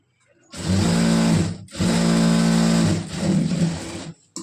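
Sewing machine stitching coat fabric with an extra line of stitches, running close and loud in two steady bursts with a short pause between them and a brief stop near the end.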